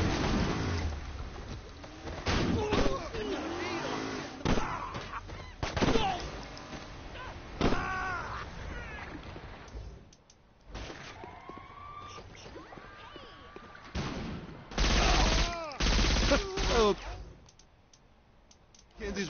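Gunfire in a video game: several scattered sharp bursts and clicks mixed with sirens and game noise, with people talking over much of it.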